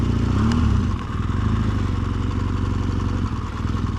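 A BMW R1200GSA motorcycle on a snowy winter road idles with a steady low throb, then rumbles as it turns and starts to ride off, close and loud, with no talk.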